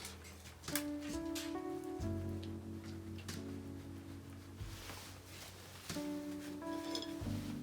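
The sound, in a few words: tea leaves being shaken in a cup for tea leaf reading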